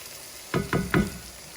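Three quick scraping strokes of a spoon stirring shredded cheese into thick stuffed pepper filling, close and fairly soft against a quiet kitchen background.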